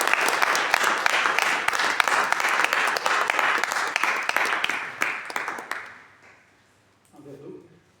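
Audience applause at a two-voice conference lecture, dense sustained clapping that holds for about six seconds, then fades out, followed by a faint brief murmur.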